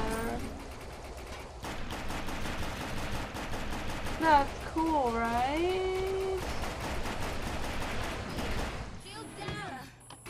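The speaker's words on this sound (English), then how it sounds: "I'm just gonna run through this gunfire" Rapid gunfire bursts from the video game Defiance rattle almost continuously beneath a player's running talk, mixed with game music and sweeping electronic effects.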